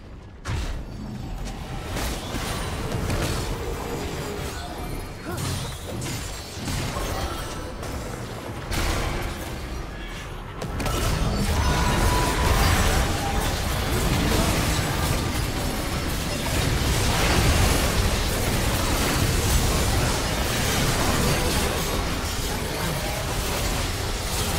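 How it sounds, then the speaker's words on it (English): Dense, roaring game audio from a League of Legends match with Master Yi versus Viego, full of overlapping bursts, booms and whooshes as a turret is destroyed, growing louder and busier about halfway through. "Red team's turret has been destroyed."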